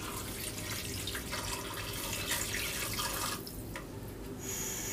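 About two cups of water pour into a cooking pot holding chana dal and soybean oil, making a steady splashing rush that breaks off briefly and then resumes.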